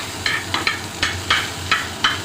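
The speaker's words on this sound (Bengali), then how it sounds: "পেঁয়াজটাকে লাল লাল করে ভাজবেন, একটুখানি হালকা করে পেঁয়াজটাকে ভেজে নেবেন।" Chopped onion frying lightly in a pan, stirred in a steady rhythm: soft scraping swishes recur about every half second over a low, quiet sizzle.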